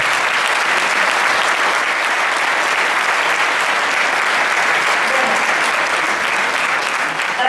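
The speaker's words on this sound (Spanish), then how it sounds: "Así que un aplauso también para ella." Audience applause after a speech at a ham-carving contest in Teruel, Spain: dense, steady clapping that stays loud and even throughout, with no break.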